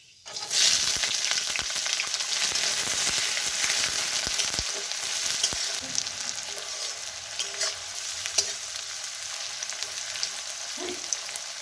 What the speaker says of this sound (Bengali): এবার মিডিয়াম আঁচে রেখে পেঁয়াজটা ভালো করে ফ্রাই করে নিতে হবে, ব্রাউন করে।